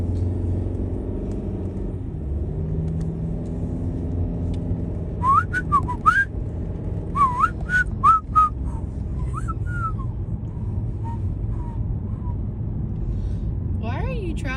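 A person whistles a short, wavering tune in bursts over the steady low rumble of a car interior, with talk nearby.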